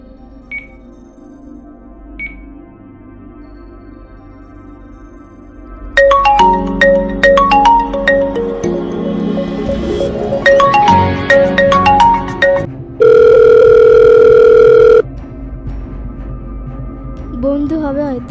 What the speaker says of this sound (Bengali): ফোন লাগিয়ে দেখি।